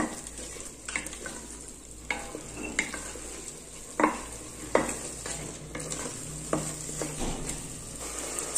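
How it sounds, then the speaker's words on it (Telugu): Mint paste frying in oil in a pan, a soft sizzle under a series of sharp stirring scrapes and light metal clinks, no voices. "పుదీనా పేస్ట్ వేసేసుకున్న తర్వాత కాసేపు ఫ్రై అవనిద్దామండి"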